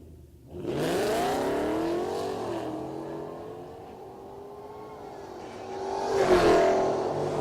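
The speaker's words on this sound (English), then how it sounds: "Hoping that Dave and John can make their way in and get the Corvette down the racetrack." A Corvette at a drag racing event accelerates hard down the track, engine revving through rising gear sweeps before fading into the distance, with a second swell of engine noise near the end.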